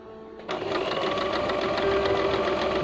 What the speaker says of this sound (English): So you can plan to do some zigzag stitches on a plain fabric.